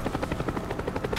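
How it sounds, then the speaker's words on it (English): A friendly Cobra attack helicopter in Call of Duty Black Ops thumps in with rapid rotor chopping, steady and fairly close, no talking over it. "Friendly Cobra inbound."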